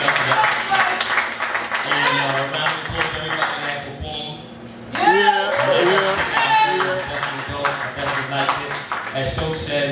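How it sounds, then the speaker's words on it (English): Audience applause with cheering at a live comedy show at Stockholm Syndrome, a steady crowd roar mixed with voices and music-like tones, dipping briefly in the middle before swelling again. "can we give a round of applause to everybody who came here?"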